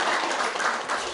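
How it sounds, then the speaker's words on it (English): A short burst of full-room applause at a party nomination forum in Trail, brisk and continuous from many hands clapping together. "these two deserve a little bit of a round of applause here for standing up for the party"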